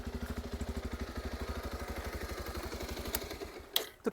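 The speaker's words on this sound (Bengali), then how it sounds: "2026 বাজাজ পালসার 125 এই বাইকটার এক্সস্টের সাউন্ডটা কেমন লাগলো" A 2026 Bajaj Pulsar 125 motorcycle idles close up with a steady, rapid exhaust putter, then ends in a couple of sharp clunks or blips.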